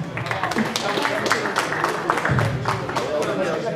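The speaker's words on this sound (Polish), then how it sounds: "Gorące brawa dla panów." An audience claps and cheers for the men at a school competition held at Zespół Szkół nr 1 in Kłobuck. The applause is dense and steady, with crowd noise and voices running underneath it.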